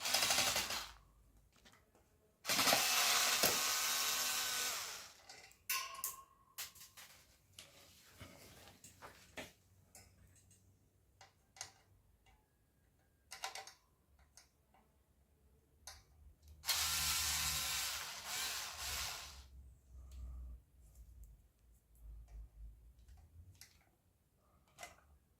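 Small mechanical clicks and ratcheting ticks from a Phillips screwdriver backing the screws out of a fan guard, close and intermittent, broken up by louder bursts of handling noise, with no talk.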